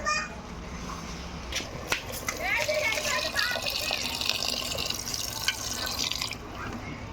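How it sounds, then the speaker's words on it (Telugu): Water poured into a pot of curry freshly mixed with chilli powder, a steady splashing and dripping pour close by with faint voices and household noise in the background. "ఇప్పుడు ఇందులోకి నీళ్ళు పోసుకున్నాం"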